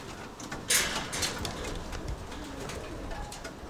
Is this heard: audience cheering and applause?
no